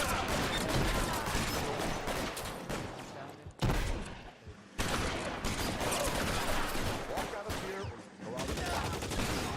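Sustained gunfire from a shootout with police officers in the detective video game L.A. Noire, dense volleys of rapid shots filling nearly the whole stretch with a brief lull in the middle, loud and close.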